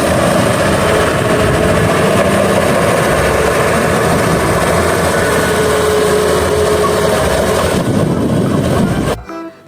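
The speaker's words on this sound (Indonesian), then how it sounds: "di sini ada mobil dump truck" A toy dump truck gives off a steady, loud mechanical engine-like drone for about nine seconds, near and constant, then cuts off abruptly at the end.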